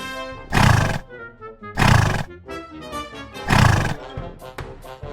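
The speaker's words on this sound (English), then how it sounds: "horse" A horse neighs loudly and up close, three long whinnies in a row separated by short pauses, with a quieter snort near the end.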